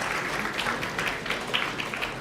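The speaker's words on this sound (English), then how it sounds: "Okay, round of applause." Students in a university programming lecture hall applaud together, a continuous, fairly dense patter of clapping hands at moderate volume from across the room.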